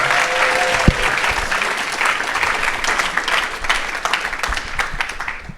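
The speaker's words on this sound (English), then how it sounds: "A huge round of applause for Mariam for being here today." A conference audience breaks into sustained, dense applause at a panel event, steady and loud throughout, with a brief tone near the start.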